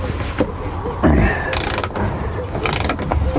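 A wrench works loose the single steering wheel nut on a Bantam car during a strip-down, giving close metallic ratcheting clicks and scrapes in short bursts.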